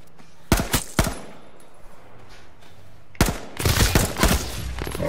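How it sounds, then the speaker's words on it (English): Bursts of automatic gunfire from another player in the PlayStation 4 battle royale game H1Z1, a few sharp shots early then a denser rapid volley later, fairly close and loud with no talk over it. "That's someone else shooting."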